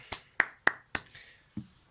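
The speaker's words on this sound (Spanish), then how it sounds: "Un aplauso, por favor." A few sparse, separate claps ring out for an invited expert, close and distinct, with long gaps between them and no crowd behind.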